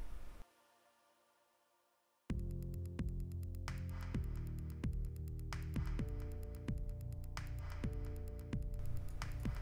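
A polishing wheel loaded with Tripoli compound starts up after a near-silent pause and keeps spinning with a steady motor hum and a rhythmic throbbing pulse.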